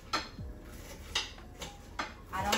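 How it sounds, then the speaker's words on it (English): A knife slices through food on a ceramic dinner plate, making sharp scraping clicks at irregular intervals, close and fairly quiet. "my husband hates that I cut on the actual plates"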